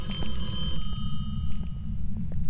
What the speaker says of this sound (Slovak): Tak tu pred nami zvonil telefón